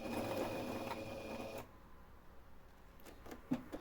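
A Singer domestic sewing machine stitches a baby bib. It runs with a steady mechanical whir for under two seconds, then stops, leaving a few faint clicks and handling sounds close by.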